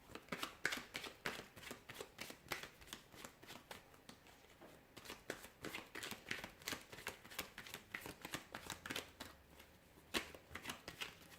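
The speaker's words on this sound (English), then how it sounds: "I will be shuffling the cards and we'll see what messages they reveal." Tarot cards shuffled by hand, a steady run of soft riffling flicks and slaps repeating close by and quietly, with no talking.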